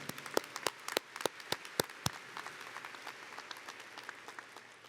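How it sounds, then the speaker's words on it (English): Applause from a high school graduation audience, a scattering of sharp individual claps over a dense soft patter that thins out toward the end, moderately distant. "Please give them a round of applause"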